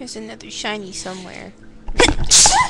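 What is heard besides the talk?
sneeze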